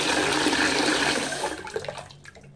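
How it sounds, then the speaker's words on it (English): Hot water gushes loudly from a tap into a bathtub, a steady broadband rush that thins and fades toward the end. "let's put in more hot water."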